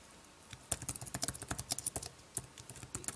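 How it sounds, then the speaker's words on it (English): Fingers type on a Logitech Solar Keyboard Folio for iPad, a quick, irregular run of crisp, close key clicks with brief pauses, alone in a quiet room. "let's go ahead and go to Notes and start typing something"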